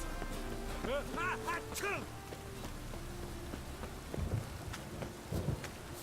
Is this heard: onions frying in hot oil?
no